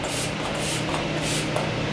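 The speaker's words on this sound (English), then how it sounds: "I'm gonna spray your face" A makeup setting spray hisses onto a client's face in a steady, close mist lasting about two seconds.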